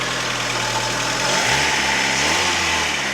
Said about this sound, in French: J'attends un petit tic-tic-tic, c'est les poussoirs.